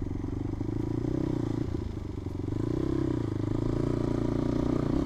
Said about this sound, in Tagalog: Dalhin natin yung motor sa taas.